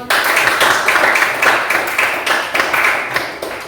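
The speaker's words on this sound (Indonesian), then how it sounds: "Tepuk tangan untuk Simon." Students in a classroom clap for a classmate, a dense burst of many hands close by that holds steady and loud for a few seconds.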